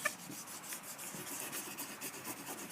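A laser-printed image is burnished onto a wooden board by hand, giving soft, close, repeated rubbing and scraping strokes at a steady rhythm.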